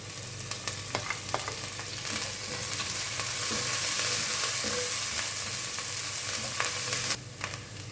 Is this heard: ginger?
yes